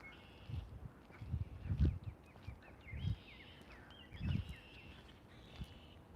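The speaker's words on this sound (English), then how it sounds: "I hear cardinals." Cardinals sing outdoors, their clear whistled phrases moderately near, running under footsteps and low rustling with no voices.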